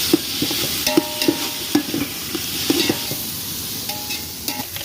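Two chopped tomatoes added to fried onions and stirred in a pan for chicken biryani, with a steady close sizzle and repeated scraping stirs of the spoon against the metal.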